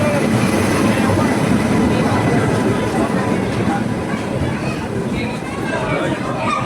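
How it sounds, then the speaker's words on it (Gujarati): At a railway station, a train pulls in with a loud continuous rumble and rattle of wagons while a crowd of people talks and moves around nearby. "જો ટ્રેન આવી ગઈ."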